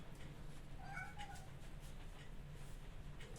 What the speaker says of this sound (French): Vous entendez, il chante bien mon petit chat.